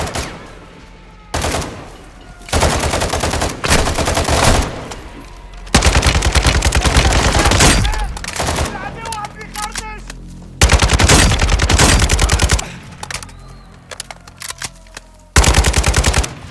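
Loud bursts of automatic gunfire in Call of Duty Modern Warfare 2 come in several rapid volleys separated by short pauses, with single shots scattered between them.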